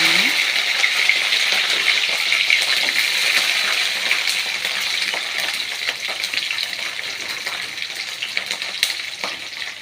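Green chilies frying in hot oil give a continuous bright sizzle and crackle, steady and close, with scattered sharper pops and no talk over it.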